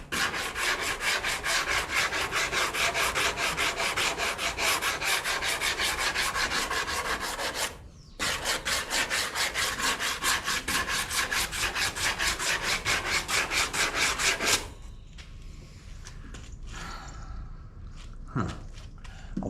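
Fast, steady back-and-forth rasping of sandpaper on the body of a 1981 Corvette runs loud and close for many seconds, with one brief pause. It stops abruptly, leaving faint handling noises.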